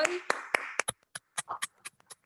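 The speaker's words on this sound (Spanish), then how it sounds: "activemos los micrófonos para dar un aplauso a los 2 disertantes del día de hoy" Participants in an online meeting applaud two speakers: sharp, separate claps from unmuted microphones, a quick cluster at first, then sparser and quieter claps trailing off, slightly thin and compressed.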